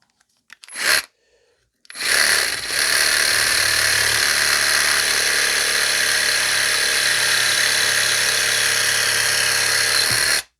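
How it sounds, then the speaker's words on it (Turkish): A loud, steady power saw whirs continuously through wood held in a wood clamp after a brief clatter, running for several seconds without pause. "Şimdi testeremi de elime alıyorum"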